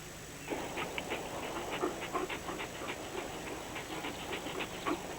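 A military war dog pants in quick, even bursts close by, quiet and steady, with no other sounds.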